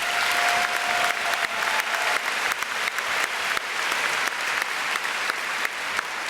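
A graduation crowd at McNary's 2017 ceremony gives the scholars sustained applause. The clapping is steady and full and slowly settles into a more rhythmic pattern.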